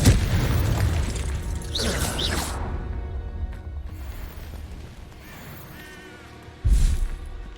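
A Confringo explosion spell cast in Hogwarts Legacy gives a low booming burst, with a second heavy impact near the end, amid game sound effects and someone speaking over it.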